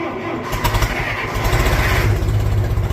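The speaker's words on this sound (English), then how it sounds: "they start up pretty well in the cold, as long as you got a lick of common sense and tune the carb right" A carbureted small engine cranks and catches on a cold start with the choke pulled, then settles into a steady, loud chugging idle close by.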